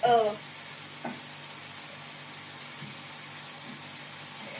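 Sausages frying in a pan give off a faint, steady sizzle, with a brief voice-like sound at the start and a few soft clinks over the crackling hiss.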